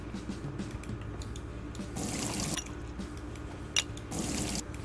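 Water pours into a glass in the video game Brewpub Simulator, with two short, moderately loud filling gushes over a soft background hum and a single small clink.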